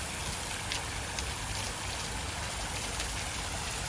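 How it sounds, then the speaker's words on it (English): Water pouring continuously from a bowl at a campus fountain in Tokyo, a dense, steady splashing rush that fills the scene evenly without pause. "It's pretty cool the way the water is pouring out of the bowl there"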